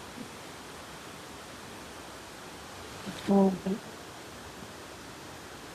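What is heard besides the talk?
water flowing from waterfall beside road near Saputara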